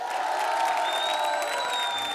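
Audience at a comedy stage show breaking into applause and cheering, a steady wash of clapping and crowd noise with a faint whoop-like tone, constant level throughout and no voices talking over it.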